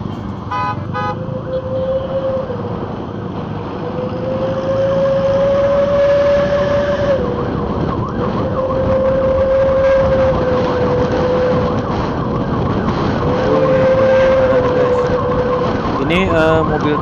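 A prison transport vehicle from Lapas Tanjung Pusta passes on the road, its siren cycling in repeated rising and falling wails over a steady rumble of traffic.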